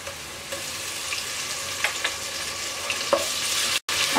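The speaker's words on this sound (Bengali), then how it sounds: "আদা রসুনটা একটু নেড়ে চেড়ে ভেজে নেব।" Ginger and garlic sizzle steadily in hot oil over softened onions as they are stirred, with a constant frying hiss broken by a few soft utensil scrapes, close and alone.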